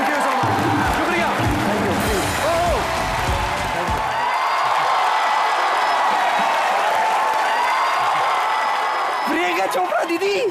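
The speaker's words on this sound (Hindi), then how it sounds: "दोनों टीम्स के लिए जोरदार तालियां" Studio audience applause with cheering and whoops on an Indian comedy show stage, a sustained broad crowd roar that swells near the start, holds steady, then rises again at the end, with a host's voice in the background.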